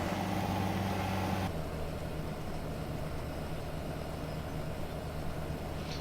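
A tractor pulling a forage harvest wagon in Farming Simulator 17 drives back toward a grass field, giving a steady, loud low engine drone. The pitch shifts slightly early on, then the engine holds an even hum with no talk.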